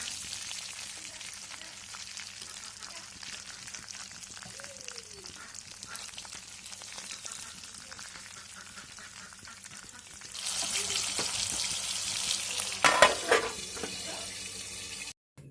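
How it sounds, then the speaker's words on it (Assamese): Pieces of borali fish fry in hot oil for a mustard fish curry, giving a steady close sizzle that grows louder and busier near the end, with a few brief clatters. "তাৰপৰা বাকী থকাখিনি ভাজি লওঁ"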